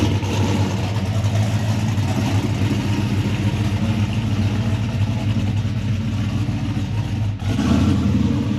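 A 1970 Chevelle SS V8 runs steadily close by, a loud continuous engine rumble with a brief dip near the end before settling back to a strong idle-rev drone, no voices.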